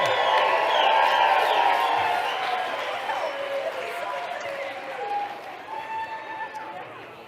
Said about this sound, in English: All right, y'all, clap it up.